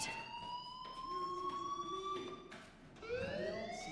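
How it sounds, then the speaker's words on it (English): Fire alarm in the Life is Strange video game sounds as a steady electronic siren tone, loud and continuous, sweeping slightly in pitch and overlapping with a second rising wail near the end. "do you hear that fire alarm? That means you should be outside."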